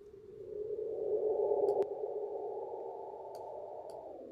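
A dark, sustained synthetic drone tone builds and then holds steady as a sound-design background layer, with a few faint clicks over the top.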